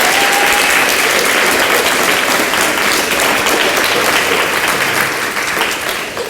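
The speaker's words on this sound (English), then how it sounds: "I want people to give a round of applause to all these speakers right now" An audience at a vegan fitness panel event claps loudly and continuously for the speakers, a dense, even wash of applause throughout that fades slightly toward the end.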